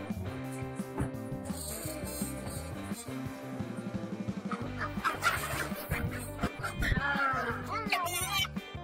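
A chicken clucks and squawks as it is caught, with its cries growing busier toward the end, over background music and voices.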